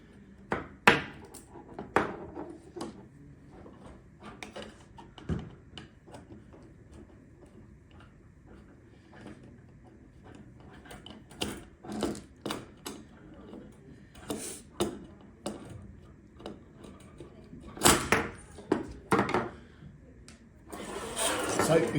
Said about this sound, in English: the bottom hook and anti-lift bolt case is secured with 2 T20 torque screws, so we can go and remove those